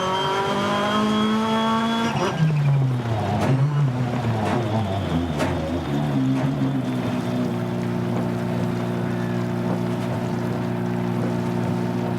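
A rally car in the video game Dirt Rally 2.0 drives a stage, its engine revving and shifting through gears with tire noise, loud and close throughout, settling into a steady drone at the end.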